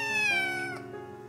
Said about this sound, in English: This is my ragdoll cats, Teemo and Arya.